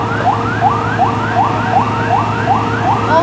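A fire truck responding to a large blaze in Villar City, Las Piñas, sounds a loud, close whooping siren, its rising sweeps repeating steadily over a low engine rumble.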